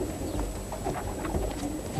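Young racing pigeons in a loft built from recycled wartime prefabs, with soft, low cooing and rustling carrying on steadily throughout at close range, and no one talking over them.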